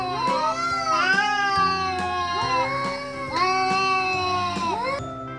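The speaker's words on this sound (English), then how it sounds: "C for cat." A cat meows repeatedly in long drawn-out, wavering cries, close and clear, several calls in a row with brief gaps between them.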